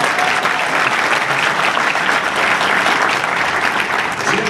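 Dense, steady audience applause at a campaign rally in Rochester, New Hampshire, with Romney and Pawlenty, a loud continuous wash of clapping from a large crowd that holds for the whole stretch.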